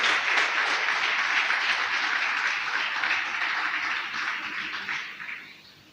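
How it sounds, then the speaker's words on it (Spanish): A church congregation breaks into strong applause for the Lord, a dense wash of clapping that holds steady and then fades out toward the end. "Dale un fuerte aplauso al Señor."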